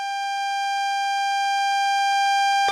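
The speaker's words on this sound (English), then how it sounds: "That alarm is the AWS self-test system." Repeating electronic alarm tone from the AWS self-test system in a train cab in Train Sim World, a steady rapid pulsing beep with layered harmonics sounding loud and close throughout, cutting off abruptly at the end.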